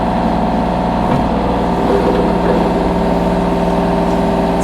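A 2021 Kubota KX033-4 rubber track mini excavator with a cab sits with its diesel engine running at a steady idle, a loud, close, even drone with a low throb and no break.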